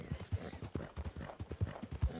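Horse hooves gallop in the video game Red Dead Redemption 2, a rapid, close, rhythmic clip-clop of repeated hoof strikes continuing throughout, with no talk over it.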